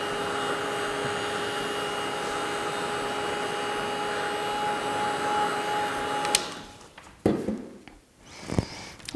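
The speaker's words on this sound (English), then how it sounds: "heat tool" Steady whooshing blast of a craft heat tool drying distress oxide ink on a card, loud and continuous with a faint whine, then cutting off into a few scattered handling taps.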